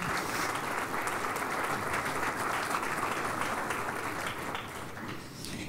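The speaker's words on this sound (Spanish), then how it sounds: "Dale un fuerte aplauso al Señor." Sustained applause from a church congregation fills the space steadily, a dense wash of many hands clapping at even loudness that tapers only slightly toward the end.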